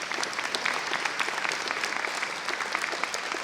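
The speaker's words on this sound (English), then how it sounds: "I think they deserve a round of applause for that program." A room of people applauds at a press conference about a regional safe schools program, brisk steady clapping with individual claps distinct in the mix, short and evenly sustained.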